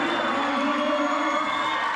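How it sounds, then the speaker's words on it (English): A loud, sustained roar from a professional wrestling arena crowd at Saturday Night's Main Event, dense cheering and whooping that holds steady throughout. "Paul Orndoff wanting to hear the loud roar of the crowd."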